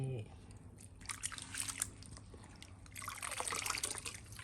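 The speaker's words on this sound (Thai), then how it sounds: "แล้วก็ไปแช่ มันจะมีฟองขึ้นมาปุดปุดปุดปุดปุดใช่ไหมคะ" A potted plant with fresh soil is dunked fully into a tub of water, giving soft bubbling, trickling and gurgling sounds that grow busier toward the end, close by and moderately quiet.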